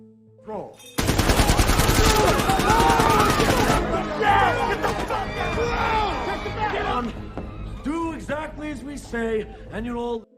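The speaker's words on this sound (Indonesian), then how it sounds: "ketika menghampiri Sherry di meja kerjanya, tiba-tiba ada 3 orang datang menggunakan pakaian Santa Claus dan melancarkan tembakan." Rapid bursts of automatic gunfire from a film bank robbery rattle loudly for a few seconds, followed by shouting and frantic voices amid lingering commotion.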